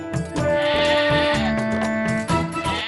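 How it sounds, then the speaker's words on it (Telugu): Sheep bleat in a television drama scene, several loud, wavering cries close by that overlap in quick succession. "ఈ గొర్రెలు ఎక్కడి నుంచి వచ్చాయి?"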